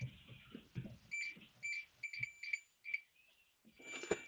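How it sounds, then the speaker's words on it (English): A high-pitched multimeter continuity beep sounds in a series of short pulses, quiet and close, testing a Daimler SP250 starter solenoid, with faint rustling and handling noise around it. "You can hear that beep"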